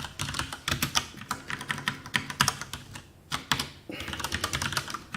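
Fingers tap quickly on a computer keyboard in uneven bursts of close, crisp key clicks, with a short pause midway before the typing resumes.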